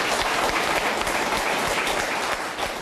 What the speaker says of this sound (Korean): 다시 한번 박수 쳐주십시오